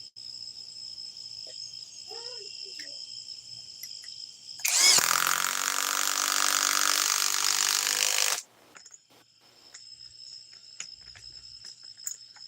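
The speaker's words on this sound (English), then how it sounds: "It's the compact impact wrench, and this is a 4 amp hour 21700 cell battery." A Bosch GDS 18V-350C compact impact wrench on a 4 amp hour 21700-cell battery, set against chrome sockets, gives one loud burst of roughly four seconds, with quieter workshop noise before and after.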